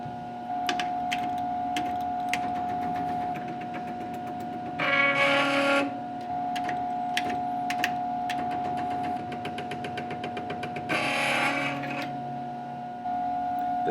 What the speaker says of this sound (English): Here is the stepper motor for the compound rotation.